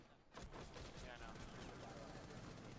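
Rapid gunfire in Rainbow Six Siege erupts after a brief lull, a dense stream of shots rattling continuously and loudly, with voices talking over it.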